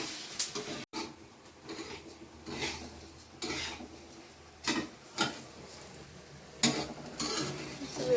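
Mustard seeds, fenugreek, poppy seeds and other spices for chutney masala are dry-roasted and stirred in a pan, giving repeated scraping and rasping strokes with brief metallic clinks, close and moderately loud.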